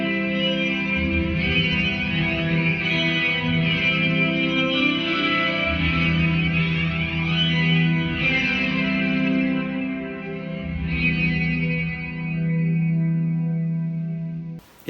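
Electric guitar played through a Space Hole shimmer reverb pedal, sustained chords blooming into a dense, chorused wash with octave-up shimmer and long echoing tails, swelling and shifting in a few waves, loud and continuous with no voices.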